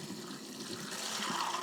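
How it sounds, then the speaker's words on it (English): Water pours in a steady, faint stream into a stock pot of overnight-soaked beans, a continuous splashing fill that grows slightly fuller toward the end, with no voices. "we're going to pour 6 to 8 cups of water into the stock pot"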